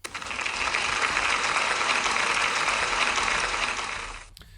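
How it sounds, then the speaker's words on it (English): Steady, dense applause from a school celebration assembly audience, filling the clip at even loudness before cutting off abruptly near the end. "Can we give Owen a big round of applause, please"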